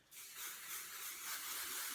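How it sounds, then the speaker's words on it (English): Hairspray mists from an aerosol can in one steady, close hiss lasting about two seconds, with no talking. "And then I spray some hairspray."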